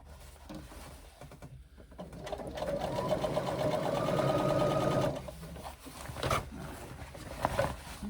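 A sewing machine stitches a swim bag, running steadily for a few seconds at close range as the fabric is slid around, then stopping, followed by brief handling clatter.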